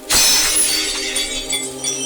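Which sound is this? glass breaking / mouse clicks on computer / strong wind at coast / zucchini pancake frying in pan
glass breaking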